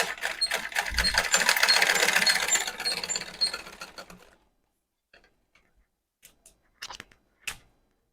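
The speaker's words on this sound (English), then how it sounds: "if your machine can sew it, pass it under your machine and sew" A sewing machine stitching pleated fabric in a fast rattling run of about four seconds, close and fairly loud, followed by quiet with a few small clicks and handling noises.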